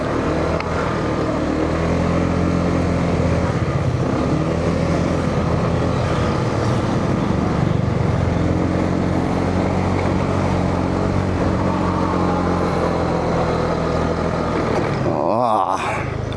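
A motorcycle engine drones loudly and steadily on a steep mountain road near Vigan, Ilocos Sur, its hum rising and falling slightly throughout with no break.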